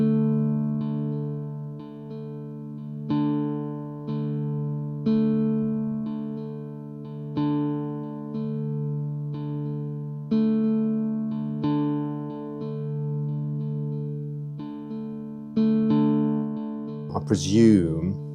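A SOMA Cosmos delay with blur cross-feedback repeats a tonal synth note in a slow, regular pulse, each echo swelling and smearing into the next, ending in a brief warbling burst.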